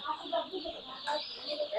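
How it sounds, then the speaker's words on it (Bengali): Newly delivered Nahar hatchery chicks are let into a heated brooder, filling the space with faint, busy peeping in quick overlapping bursts, soft and somewhat distant. "এখন আমরা মুরগিগুলা মানে ছাড়তেছি ব্রুডারে"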